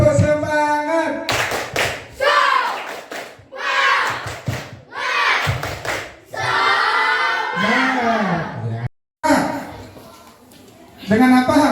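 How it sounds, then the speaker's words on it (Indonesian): A group, likely in a classroom, claps out a cheer in short rhythmic bursts alongside loud chanting voices, close and energetic, with a brief pause before a final round. "Ayo, tepuk semangat."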